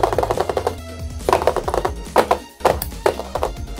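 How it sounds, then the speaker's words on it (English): Rapid keyboard typing with fingernails clacking on the keys, in a video game scene: clustered bursts of sharp, close taps with brief pauses between them, fairly loud and with no talking. "Typing frantically to the point that her fingernails are clacking against the keyboard."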